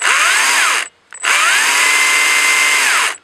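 A Stihl MSA 120 C battery chainsaw whines at high pitch, cuts out briefly, then starts again and runs steadily; no voices.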